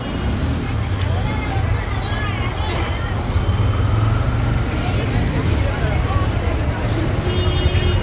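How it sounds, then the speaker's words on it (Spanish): Heavy street traffic fills a busy town in El Salvador at Christmastime. A dense, steady rumble of passing vehicles continues throughout, while people talk nearby. "Por eso es que aquí se pone bien difícil el tráfico también."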